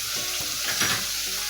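Fish shallow-frying in a pan, a steady close sizzle and crackle with faint stirring clatter, continuous throughout with no voices.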